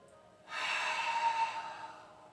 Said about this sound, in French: respirez profondément sur 3-4 pas